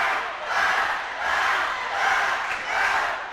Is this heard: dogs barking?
no